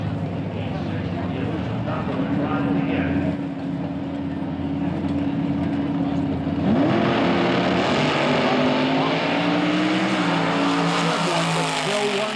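A dragster engine idles and then revs louder at drag race staging, its throaty drone rising sharply partway through, with a crowd-area announcer talking over it.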